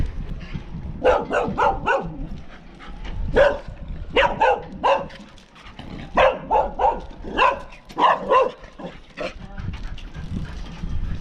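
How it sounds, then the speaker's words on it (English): A dog barks in repeated bursts of several sharp, close barks separated by short pauses, loud and insistent across the whole stretch. "And there's the dog."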